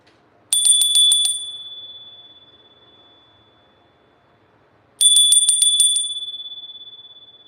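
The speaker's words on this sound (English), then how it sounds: "I'm going to ring the bell real quick here." A bright metallic bell rings twice, each time a quick rapid trill of strikes followed by a long fading ring, a few seconds apart in an otherwise quiet room.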